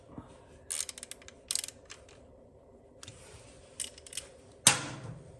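Ratchet wrench tightening a footpeg on a Harley-Davidson touring motorcycle, with bursts of rapid close mechanical clicking, pauses between strokes and a final sharp metallic snap.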